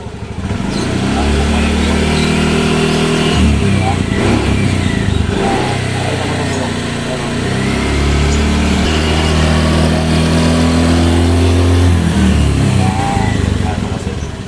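A motorcycle engine with a stiff throttle cable that won't spring back runs loud and close, revving up and down in steady waves as the throttle is worked, with no pauses.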